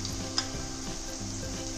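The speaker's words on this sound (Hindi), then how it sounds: "अभी हम आपको सैलो फ्राई करके दिखाएंगे।" Cluster beans shallow fry in oil in a pan, a steady close sizzle with soft crackles and a faint utensil clink, with no talking.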